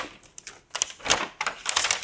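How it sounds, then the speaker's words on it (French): Scissors snip through a sheet of paper in a quick series of short crisp cuts, close up and free of talk. "avec mon ciseau, j'ai plus qu'à suivre ma ligne"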